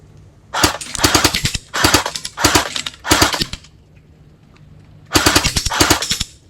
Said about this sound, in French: On se fait un petit coup de rafale, histoire de rigoler.